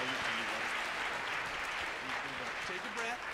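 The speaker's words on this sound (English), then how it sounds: "if you could please just give a round of applause for my father-in-law for that arrangement" Audience applause following a vocal concert performance of an arrangement, a dense, steady wash of many clapping hands filling the room throughout, with faint voices mixed in underneath.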